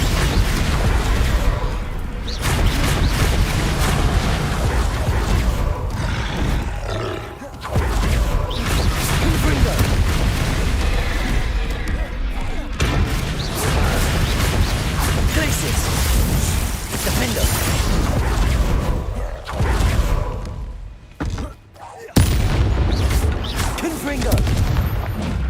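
Spell blasts in Hogwarts Legacy crash and boom repeatedly in a chaotic battle, dense bursts of explosions and impacts with brief lulls, mixed with shouted voices.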